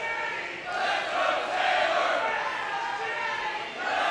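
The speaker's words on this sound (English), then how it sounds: "the crowd evenly split here in Pittsburgh" A women's professional wrestling crowd in Pittsburgh cheers and roars in waves that swell and fade, with a commentator talking over the noise.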